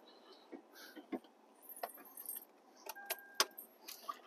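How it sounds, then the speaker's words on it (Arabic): Keys jangle as a car is locked at a visitors' site by Mount Uhud in Medina, metallic clinks and rattles scattered over several seconds, close by, with a faint electronic chirp partway through. "نغلق السيارة"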